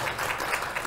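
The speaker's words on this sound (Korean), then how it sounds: "이거 박수 받을 일이 아니고요" A church congregation claps in a brief, dense burst of applause filling the room, steady and moderately loud throughout.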